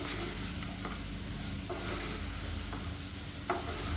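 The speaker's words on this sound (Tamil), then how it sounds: "மீடியமாக வச்சு பரட்டி விட்டுக்கோங்க" Raw banana slices being stirred as they fry in a pan over medium heat: a faint, steady sizzle with occasional light scrapes and taps of a spoon against the pan, quiet and close.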